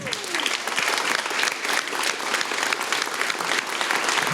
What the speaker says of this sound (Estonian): Aplaus neile.